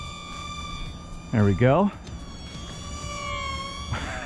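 The electric motor of a Sky Viper Vector RC stunt plane whines steadily at full throttle after a hand toss. Someone briefly speaks over the constant high-pitched drone.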